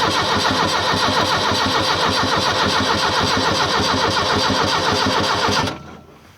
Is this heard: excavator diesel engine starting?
yes